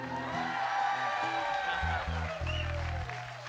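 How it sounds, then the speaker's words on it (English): Audience applause with some whoops at a live Friday night music show, clapping and cheering heard under music with low sustained tones, steady throughout. "you better clap more than that"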